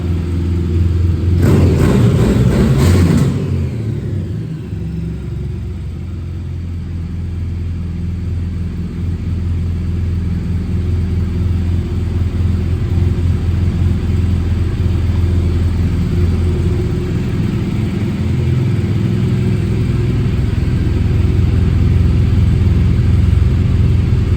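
A 2017 BMW R1200GS boxer-twin motorcycle engine runs with a loud, steady, low rumble. A brief, harsher burst comes near the start, and then the idle-like drone continues unbroken.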